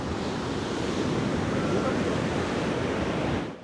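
Rough sea waves at the Azuretti beach resort crash and roar continuously, loud and close, with heavy wind buffeting the microphone, before the sound cuts off abruptly.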